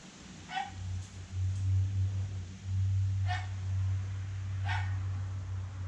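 A dog gives three short, sharp barks spaced about two seconds apart over a steady low hum, fairly close and moderately loud.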